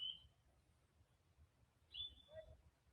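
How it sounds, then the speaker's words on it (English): A few faint, high bird calls in a botanic garden, thin whistled notes at the start and near the end, distant over quiet low rumble. "Can you hear the bird life?"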